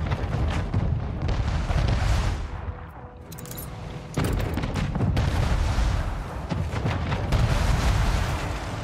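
Ships exchange cannon fire in Anno 1800, a continuous barrage of heavy booms and rumbling blasts that dips briefly in the middle, then swells back to a loud, dense volley.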